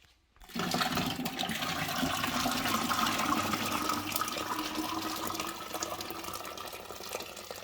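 Cider pours steadily into a container with a broad, splashing rush that starts abruptly and continues at even strength, easing slightly toward the end.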